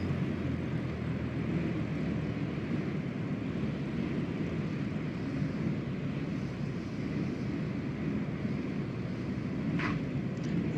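A Cessna 172 in Microsoft Flight Simulator 2020 on a landing approach, with a steady, loud engine and airflow drone that holds evenly throughout and a brief higher whine near the end.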